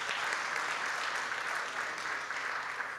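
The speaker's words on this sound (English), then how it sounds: "Another round of applause, please" Steady audience applause at a book launch, a thick even wash of many hands clapping throughout the short stretch.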